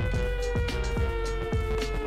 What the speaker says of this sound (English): Let's get that siren on